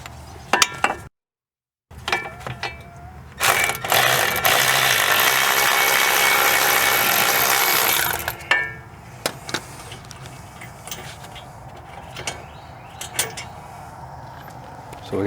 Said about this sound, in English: We'll just go ahead and stick it on our electric ratchet